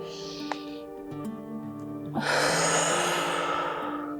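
Deep breathing in and out during a guided energy breathing exercise, a drawn-out exhale followed by a strong rushing breath, close and clear over a steady musical backing.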